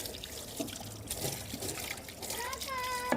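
Dusty wheat grains washed by hand in water, with steady trickling and sloshing throughout and a voice briefly in the background.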